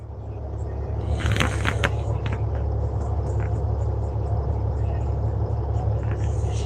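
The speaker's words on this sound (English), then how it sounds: "I've been sitting here in traffic since about, let's see, I got loaded at 1:21." A loaded truck idles in stalled road traffic, giving a steady deep engine rumble from close by with faint higher chatter and noise briefly rising over it.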